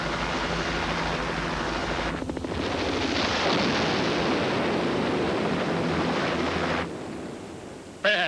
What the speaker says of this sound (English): What is it? Helicopter.